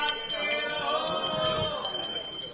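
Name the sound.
hand bell ringing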